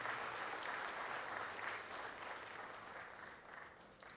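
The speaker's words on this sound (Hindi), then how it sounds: "जोरदार तालियों से स्वागत।" A hall audience applauds the Union Minister of State for Home Affairs at a regional official language conference, with steady, dense clapping that carries on throughout and fades slightly toward the end.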